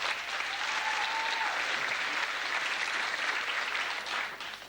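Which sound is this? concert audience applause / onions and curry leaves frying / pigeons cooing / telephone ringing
concert audience applause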